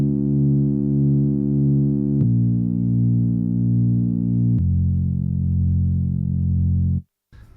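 A steady, dry synthesizer tone holding sustained notes, changing pitch twice with sharp clicks, then cutting off abruptly near the end.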